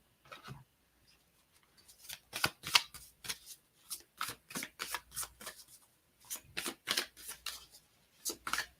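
Tarot cards are shuffled in repeated quick riffling bursts, crisp and close, separated by short pauses and quiet between groups.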